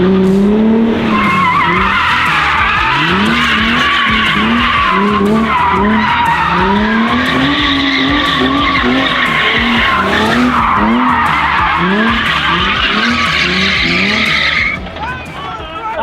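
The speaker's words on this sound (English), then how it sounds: "You're losing tires. It's all Lee doing is freaking unnecessary donuts burning" Drift car tires skid and squeal continuously and loudly at a takeover car drifting event, long sweeping screeches with engine revving beneath, while people talk over it throughout.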